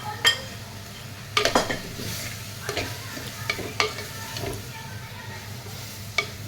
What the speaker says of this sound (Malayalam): അതിലോട്ട് ഇനി നമുക്ക് ഉണക്കച്ചെമ്മീൻ ഇട്ട് കൊടുക്കാം.